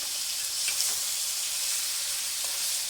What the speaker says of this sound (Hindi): इसको हमने डीपली फ्राई करना है मसाले के साथ।